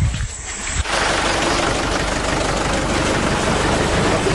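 A tractor engine runs as rations and goods are loaded and sent off, a steady loud low rumble that rises sharply after a quieter start and then stays constant, with no talking.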